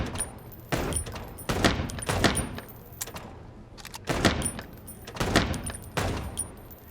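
Rapid gunfire in the video game Chicken Police: Paint it Red, several bursts of sharp shots in quick succession with brief pauses between, loud and close, with faint game sounds underneath.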